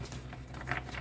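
Tarot cards being shuffled by hand, a soft, close, continuous papery patter with a few brief brighter flicks, no talking.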